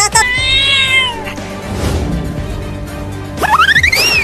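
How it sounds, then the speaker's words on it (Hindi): A cat meows twice, with a drawn-out cry at the start and a rising, wavering meow near the end, loud and close, with noisy scuffling in between. "वो बड़ा बिल्ली हमें काटने के लिए आ रहा है।"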